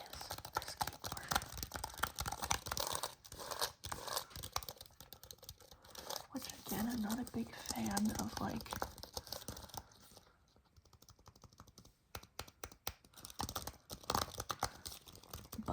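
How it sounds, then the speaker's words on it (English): Rapid clicking and tapping on a computer keyboard for ASMR, dense and close throughout with brief pauses, while a person speaks softly over parts of it. "button clicking or keyboard noises"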